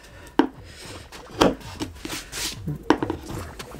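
Quiet scraping and chipping at a wall being dug out by hand for a hidden closet door, with a few sharper knocks among softer, steady rubbing strokes, close up and with no talking.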